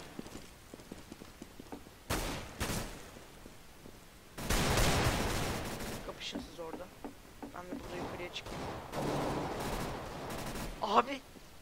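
Bursts of CS:GO gunfire from a firefight crackle in several loud clusters, some rapid and sustained, others brief, with a voice talking between them.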